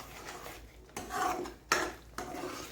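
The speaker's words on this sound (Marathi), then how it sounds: "मी ह्याला आता हलवून घेतलं." Spoon stirring spicy Maharashtrian shev bhaji curry in a metal pot, giving a few scraping, clinking strokes with short pauses between them, close and moderately quiet with no talking.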